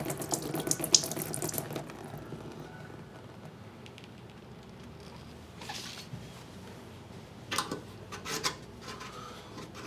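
Water pours and splashes over a telescope part being cleaned, a running trickle that comes in uneven bursts, with rubbing and brief louder gushes near the end, close and fairly quiet.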